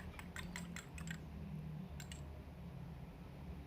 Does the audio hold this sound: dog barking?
no